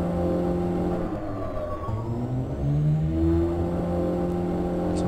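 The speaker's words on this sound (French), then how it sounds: "Ah, voiture lunaire." Lunar rover driving in Garry's Mod, a steady low motor whir with shifting tones that hold loud and continuous for the whole stretch, no voices.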